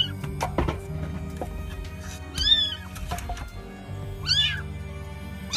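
Two plaintive cat meows can be heard, spaced a couple of seconds apart, fairly clear from what sounds like inside a cluttered room, over low rumbling background noise and scattered knocks.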